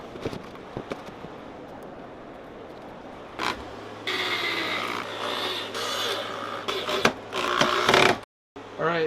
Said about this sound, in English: Alright, let's set this table down and screw it on.